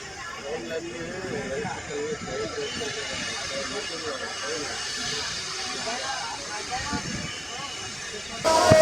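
Passenger train arriving at Guntakal junction, a steady hissing rumble of carriages rolling along the platform with people talking throughout, ending in a louder burst.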